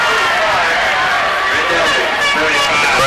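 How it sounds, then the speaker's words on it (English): A high school football crowd roars and cheers wildly after a successful extra point, a dense, loud wall of voices and shouting that holds steady throughout. "The crowd goes wild."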